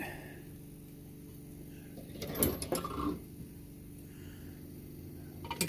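A 9/16 wrench snugs a nut down on a Coleman 237 generator, a brief cluster of metallic ratcheting clicks and scrapes in the middle, quiet and close, with faint clicks again at the end.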